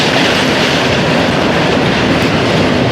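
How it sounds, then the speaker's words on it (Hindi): A goods train and the Zakariya Express pass on the Empress Bridge, producing a loud, unbroken roar of rolling wagons with rhythmic clickety-clack of wheels, close and filling the whole span. "एम्प्रेस ब्रिज पे गुड्स ट्रेन का मुकाबला ज़करिया एक्सप्रेस से"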